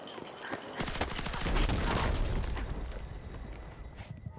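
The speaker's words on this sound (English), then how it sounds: "I got hit by a little nade." A grenade bursts in Battlefield 6 amid a busy firefight, a loud boom swelling over dense gunfire and sharp cracks that fade after a few seconds.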